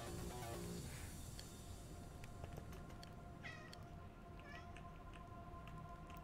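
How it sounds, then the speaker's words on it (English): Meowing from a cat in a modded Minecraft 1.12 game, a few short calls rising over steady game music and ambient hum. "Cat's being cat. Stop being cat. Stop doing it. Stop making noises."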